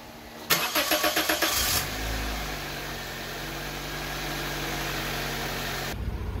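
A Toyota Corolla, just fitted with a new alternator, cranks with a rapid burst of starter chugs, then fires and settles into a steady, close engine idle.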